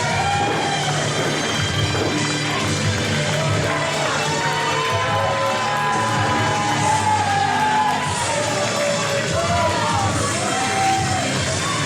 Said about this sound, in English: there's a large contingent of fans in the building that are clapping right now